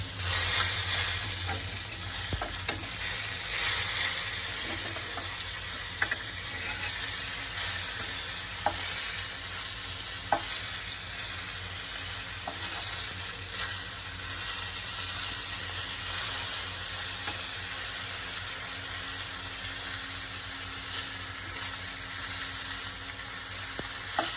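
Fish frying in a pan makes a loud, continuous sizzle and spatter with scattered pops and occasional stirring scrapes, steady and close for the whole stretch.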